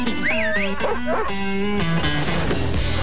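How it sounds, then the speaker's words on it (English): A puppy yips and whimpers in high, sliding cries, loud and close over a steady background. "Puppy."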